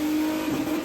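Turbocharged VW Caddy sleeper van running on a dyno, its engine giving a steady close droning note that rises slightly mid-way, loud and alone with no talk.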